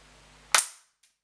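A spring-powered airsoft gun fires one sharp crack at a target five metres away, loud and close, followed by a faint tick of the pellet striking a moment later.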